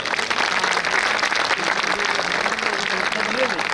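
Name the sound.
audience applauding at Hindu gathering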